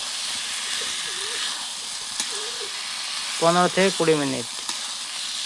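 Marinated mutton sautés with spices in a pan for a Bengali curry, a steady soft sizzle running throughout, with a brief burst of speech near the end.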